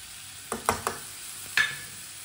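A spoon stirs pea and egg curry with tomato and fresh coriander in a pan, giving a few brief, close clatters and scrapes over a faint background hiss, with short pauses between strokes.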